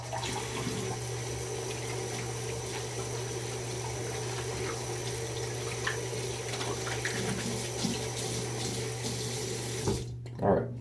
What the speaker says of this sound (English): I'll rinse my hands off real quick.